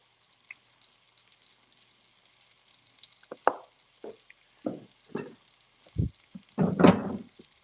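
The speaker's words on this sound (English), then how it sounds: "And I know you guys love the sizzle mic." Food sizzles in a frying pan in a home kitchen, a faint continuous hiss broken by louder pops and sputters toward the end, with no voices.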